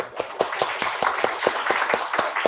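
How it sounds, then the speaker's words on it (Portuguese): An audience claps for a group at an academic talk, with steady, evenly paced clapping filling the room and no voices. "Eu queria também uma salva de palmas para o grupo todo"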